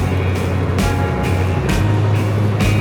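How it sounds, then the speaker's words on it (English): A 2020 Kenworth W900B logging semi with a 565 Cummins engine hauls about 23,468 pounds up a small hill in the rain, its deep steady engine drone loud and continuous, with faint periodic swishes over it. "So you're listening to a 565 Cummins engine pull this little hill."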